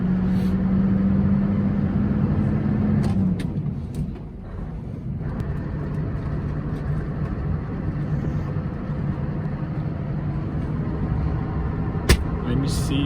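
A Scania V8 cabover truck drives in steady, loud engine drone, its tone dropping sharply around three seconds in as a quick gear shift happens, then settling into a lower, even hum with a brief click near the end.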